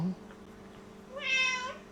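A cat meows once, a clear rising-and-falling cry near the end, in a quiet kitchen where a tuna sandwich is being made, with faint background hum before it.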